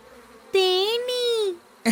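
Cartoon bees give a loud, high, tonal buzz in a Tamil children's cartoon, two sustained wavering drones about half a second apart, followed by a brief noisy burst.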